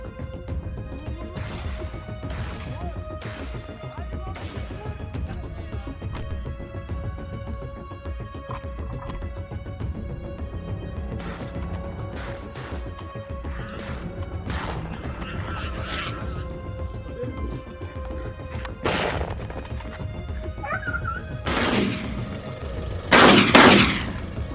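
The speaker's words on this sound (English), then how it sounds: "Gunfire echoes non-stop from the team." Repeated gunfire rings out during a wild hog hunt on a Georgia farm, with sharp shots in irregular bursts and a few rapid strings over about twenty seconds, some closer and louder, with the final volleys loudest.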